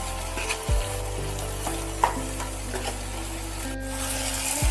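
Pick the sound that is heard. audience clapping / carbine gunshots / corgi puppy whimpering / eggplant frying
eggplant frying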